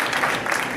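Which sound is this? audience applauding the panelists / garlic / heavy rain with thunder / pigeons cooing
audience applauding the panelists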